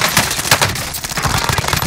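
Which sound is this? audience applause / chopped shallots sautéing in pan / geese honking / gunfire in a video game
gunfire in a video game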